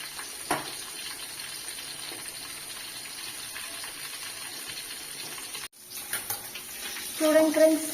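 Fish fry in a pan with a steady, soft, hissing sizzle, then a brief clatter followed by louder, busier sizzling near the end.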